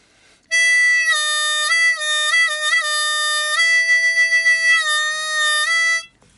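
A bent note on a blues harmonica, one long close reedy tone held about five seconds whose pitch dips down and back up several times, with a wavering pulse near the end, played alone.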